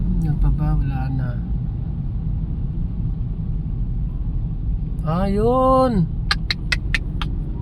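Steady low rumble of congested road traffic on EDSA at Magallanes, Makati, near a spot where a van hit a barrier and flipped, with a rising and falling tonal whine midway and people talking over it.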